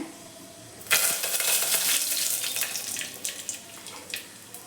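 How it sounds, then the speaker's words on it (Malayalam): Mustard seeds and curry leaves hit hot oil for a Kerala tomato curry, bursting into a loud sudden sizzle that settles into steady crackling and popping up close. "കടുക് നന്നായിട്ട് പൊട്ടി കഴിയുമ്പോഴത്തേക്കിന് കുറച്ച് കറിവേപ്പില ഇട്ട് കൊടുക്കണേ"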